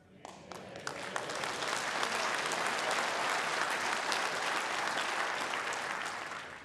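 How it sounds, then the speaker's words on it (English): A party conference audience breaks into applause during a chairman's speech, a dense sustained wash of clapping that swells quickly after a few early claps and holds steady, slightly distant and hall-like. "See, I thought you might applaud that bit."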